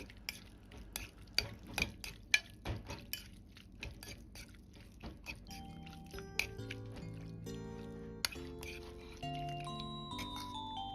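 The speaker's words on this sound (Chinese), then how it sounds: "先用勺子翻拌均匀，让牛肚能够很好的入味" Sliced beef tripe is tossed with dressing in a large bowl using a spoon: a run of quick, close scraping and clinking strokes with wet squelches, then background music rises and takes over.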